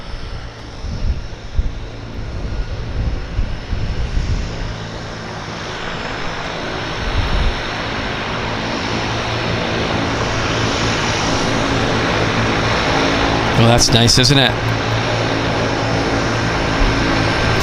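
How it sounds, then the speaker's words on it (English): Steady propeller engine drone of a de Havilland Twin Otter starting up at a harbour airport, building up and holding loud, with a brief voice speaking early on over the rumble. "Here you learned something about how to start a Twin Otter"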